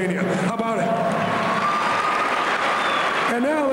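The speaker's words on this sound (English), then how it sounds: "a big round of applause for everybody who's working really hard for you today to entertain you" A large crowd applauds and cheers at a high school pep rally, a loud, sustained roar of clapping with shouting voices and whoops on top throughout.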